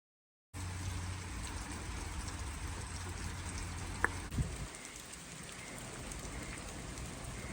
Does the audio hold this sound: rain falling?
yes